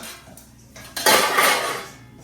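Metal pots and pans clatter in a home kitchen where a country-chicken dish is being cooked: a few light knocks, then a loud, close crash of cookware and utensils that rattles on briefly.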